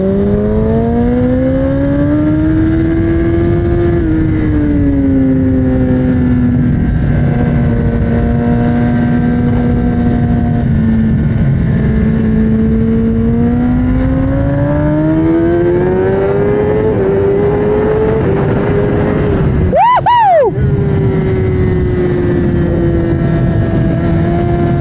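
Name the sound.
sport motorcycle engine accelerating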